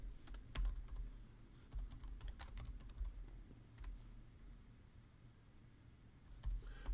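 Clicky keystrokes on a computer keyboard while logging in to a Raspberry Pi from a Windows PC, typed in a quick irregular patter at low volume with brief pauses.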